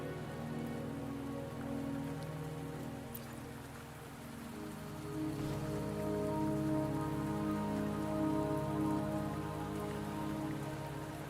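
Steady rainfall in the video game Wuthering Waves, a continuous dense patter on surfaces with no distinct drops standing out, swelling slightly midway and holding at a moderate, even level throughout.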